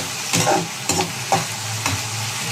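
Onions frying in a pan with a steady sizzle, stirred by a utensil in four or five distinct scraping strokes, close and fairly loud with no voices.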